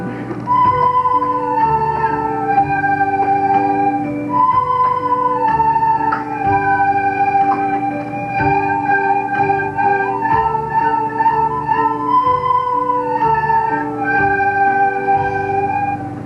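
Several third-grade children play recorders together in unison at a school recital, a simple tune, shrill and steady, with a few slightly wavering notes, continuing for the whole stretch.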